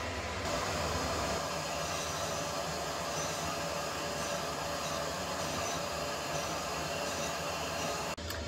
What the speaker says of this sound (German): die hier in mühsamer Kleinarbeit den Fliesenkleber entfernt